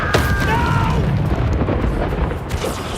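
Confringo fire spell blasts in the Hogwarts Legacy video game, a sustained rumbling explosion with crackling bursts and a brief whooshing tone near the start, loud and continuous throughout.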